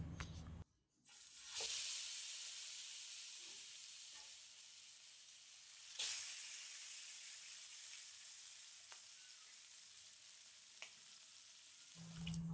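Marinated chicken leg pieces fry in oil in a pan with a soft, continuous sizzle, broken by a few sharp scrapes and taps of stirring and no talking.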